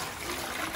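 Water pours into a homemade plastic fish tank as a brief, close, steady trickle with no voices.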